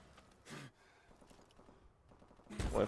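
Gunshots fired through a wall in a first-person shooter game: two muffled bursts, one brief and one heavier at the end, separated by quiet game ambience and faint low breathy sounds.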